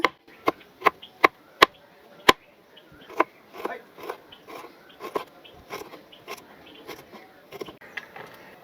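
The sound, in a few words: finely chopping a piece of ginger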